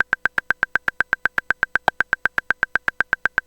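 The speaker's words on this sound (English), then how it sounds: "So it just makes like a little bleep sound," A custom synth click track bleep in a DAW ticks out short, evenly spaced pitched blips, about seven per second, dry and close with near-zero decay, steady and alone.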